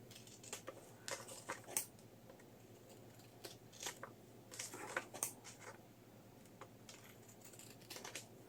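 Scissors trimming paper for steampunk ephemera crafts, a series of quiet close snips and crisp cutting crunches in irregular bursts, with no talk.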